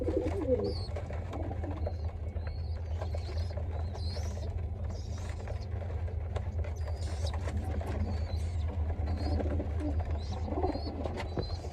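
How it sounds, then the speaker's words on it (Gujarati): Pigeons coo repeatedly in soft, low throaty calls over a constant low hum, with scattered rustles and light patter nearby. "પેલા કબૂતર જોવો તમે"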